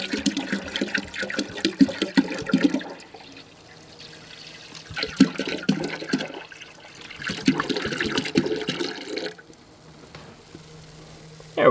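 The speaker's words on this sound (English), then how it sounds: "I'm literally just using some distilled water that I got from Walmart." Distilled water is poured into an ice box reservoir in bursts, a bubbling, gurgling trickle close by that starts and stops with quiet pauses between pours.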